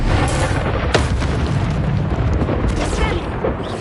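A Bombarda blasting spell exploding in Hogwarts Legacy: a loud, rumbling boom with sharp bursts near the start, then more blast impacts later, all dense and close.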